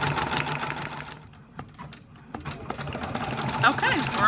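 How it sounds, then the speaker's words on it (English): A Brother Persona PRS embroidery machine stitches a hat in a 4x4 hoop, a steady rapid mechanical needle rhythm running close and loud, with a brief lull midway and a voice speaking over it. "we're going to let this stitch"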